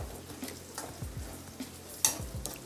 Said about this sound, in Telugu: ఇందులో కొంచెం కరివేపాకు కూడా వేసుకొని ఒకసారి మళ్ళీ స్పూన్తో తిప్పుకోవాలి